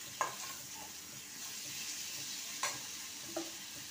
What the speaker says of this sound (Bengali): মশলাটাকে খুব ভালো করে কষিয়ে নেব